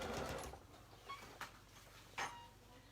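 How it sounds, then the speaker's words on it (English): A domestic sewing machine stitches a waistband in place on a garment, a faint, steady mechanical whir running throughout with a few brief louder bursts, no talking. "now we're going to sew that waistband in place"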